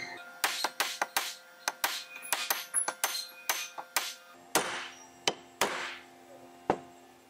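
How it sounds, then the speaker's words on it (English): Sharp metallic strikes ring out as a chisel is pounded into a carbon fiber rifle barrel, a dozen or so uneven blows, some in quick pairs, others spaced apart, close and clear with no talking. "Pound on it some more."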